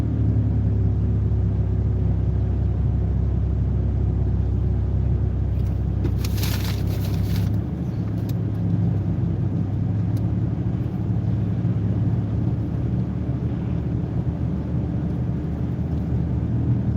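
A 2008 Chevrolet Impala engine drones steadily at a constant, loud level while driving, a low continuous rumble with road noise and small shifts in pitch as gears change.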